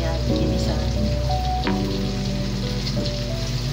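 Bitter gourd sautéing with shrimp paste in a pan, giving a loud, steady, close sizzle and crackle throughout, with a faint hum underneath.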